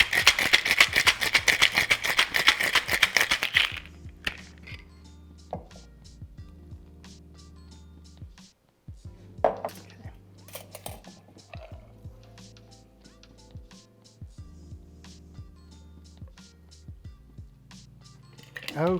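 A cocktail shaker full of ice rattles hard and fast for the Alpine Smash, a few seconds of loud rhythmic shaking, then scattered clinks and handling knocks of glassware and ice.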